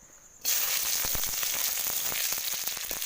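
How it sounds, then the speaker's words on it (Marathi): Onion and garlic tempering dropped into hot oil over a wood-fired stove for a sprouted moong usal, a sudden loud burst of hissing sizzle with scattered pops that carries on steadily, alone without talk. "फोडणी मी दाखवते कांदा लसणीची फोडणी घालते"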